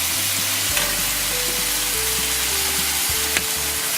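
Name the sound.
ground pork browning in a pan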